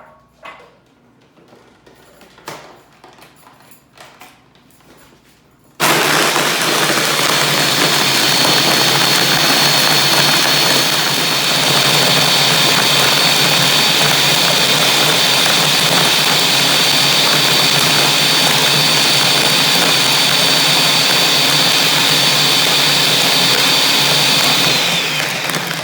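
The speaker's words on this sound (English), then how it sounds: "And we're going to start blending it up." After a few quiet seconds of small knocks, a blender roars on loudly and runs continuously, crushing ice with lemon juice for frozen lemonade, a dense steady whine with no talk.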